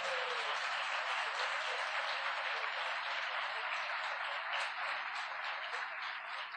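A church congregation applauds at a worship service, steady dense clapping that holds evenly for the whole stretch at a fairly soft, distant level.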